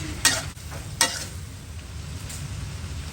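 Spicy catfish curry stir-fried in a pan with eggplant and holy basil, a steady sizzle with two sharp scrapes of the utensil and a softer one later, close and fairly loud, no talking.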